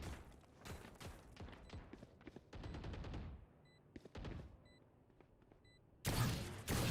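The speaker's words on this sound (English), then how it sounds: "He's just trying to jiggle and fire some shots off." Bursts of Valorant gunfire crackle in rapid volleys during an esports match, with sharp clustered shots, quieter gaps, and a louder final burst near the end.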